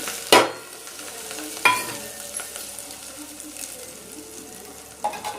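Onions and curry leaves frying in oil for egg curry, with a loud burst of sizzling as they hit the pan, then a steady close sizzle broken by a few utensil knocks.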